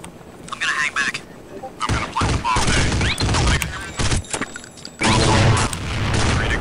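A grenade blast and bursts of gunfire in Counter-Strike: Condition Zero on the Vostok bomb-defusal map. The sounds come as loud broadband bursts that repeat through the clip, and a heavy boom lands near the end, with game voices mixed in.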